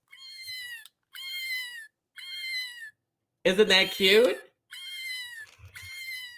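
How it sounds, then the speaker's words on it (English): A pet treat bag plays an electronic meow each time it is opened. Several clear, repeated meows sound close by with short pauses between them, and a person speaks briefly in the middle. "Every time you open the bag, it meows at you."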